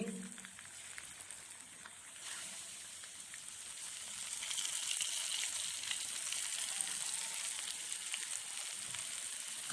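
Pieces of fish go into hot oil in a frying pan, producing a continuous bright sizzle that swells a little louder partway through, with occasional small pops and crackles.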